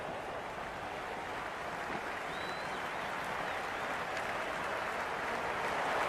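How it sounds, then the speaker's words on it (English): Crowd applause from a stadium in the cricket video game Cricket 26, a steady broadband wash of clapping that swells slightly toward the end, with no speech over it. "The crowd is electric right now."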